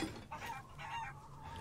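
Chicken clucking in the horror game Resident Evil Village, a few faint, short clucks over a quiet, hissy game background with no talk.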